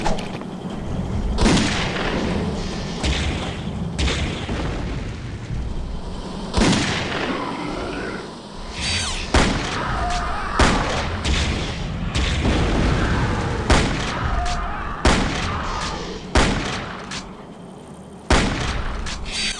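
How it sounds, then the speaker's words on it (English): Shotgun blasts boom repeatedly in the first-person shooter Blood II: The Chosen, inside a meat packing plant level, with sharp loud shots spaced irregularly over about twenty seconds amid ongoing game noise. "Shotgun triumphs again."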